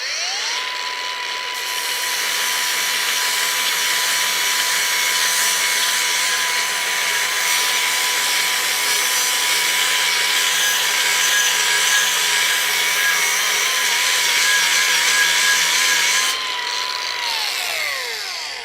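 A cordless angle grinder runs steadily at low speed while polishing steel, a loud continuous close whine with a constant tone that holds for most of the stretch, then spins down at the end.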